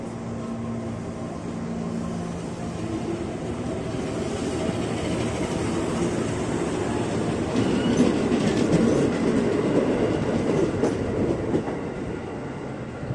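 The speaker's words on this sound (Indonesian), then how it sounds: "Jalur 1 komuteran tujuan Jakarta Kota," A 12-car KRL commuter train bound for Jakarta Kota pulls out of Bogor station with a steady, loud rumble and rail clatter that swells midway as it picks up speed. No voices are heard.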